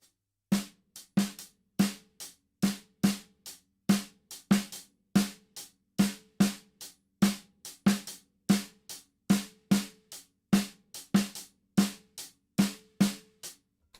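A drum kit plays a steady clave-based groove with an eighth-note right-hand pattern, sharp evenly spaced hits repeating alone at close range for the whole stretch.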